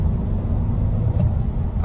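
Inside a 2016–2020 Audi A4 2.0 TDI with an automatic gearbox, a steady low engine drone rumbles through the cabin, with a brief change around the midpoint as the gearbox shifts up, and no talking.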